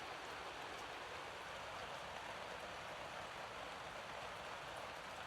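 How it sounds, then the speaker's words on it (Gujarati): Light rain falls steadily, a soft, even hiss that stays constant and fairly faint throughout, with no voices or other distinct sounds on top. "જો ધીમો વરસાદ ચાલુ થઈ ગયો છે."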